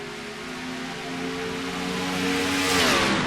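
A pack of simulated Car of Tomorrow stock cars accelerates on a green-flag restart at Atlanta at night, engine tones climbing together and swelling louder over three seconds, with no talk.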